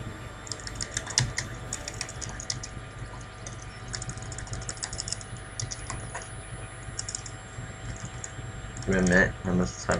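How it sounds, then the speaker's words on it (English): Steady computer keyboard typing clicks away nearby, quick irregular keystrokes running throughout over a low room hum, with a brief louder burst near the end. "I'm just typing this down."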